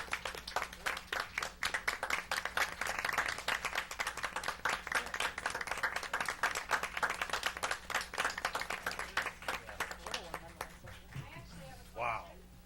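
A group at a school committee meeting claps in a steady, fairly close round of applause lasting about ten seconds, then it tapers off as a person starts talking.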